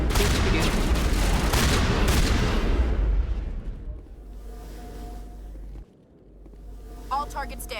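Heavy gunfire from a big weapon in Mass Effect roars in a loud, dense barrage for about three seconds, then tails off into quieter rumbling and distant shots as a voice speaks.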